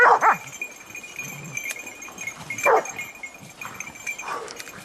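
Hunting dogs bark and yip in sharp, scattered bursts at a cornered wild boar in dense wild cover. The barks come from a moderate distance, with quieter whimpers between them.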